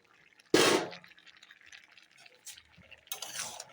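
Fried pumpkin being stirred into a pot of boiled mixed vegetables with sweet potato, a sharp scrape and clatter at the start followed by lighter taps and a second rustling stir, close up and without speech.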